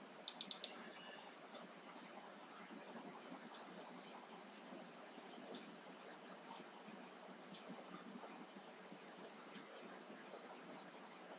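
Quiet clicking and soft keystrokes on a computer keyboard, with a quick cluster of sharp clicks at the start followed by steady, faint typing and scattered ticks, no voices.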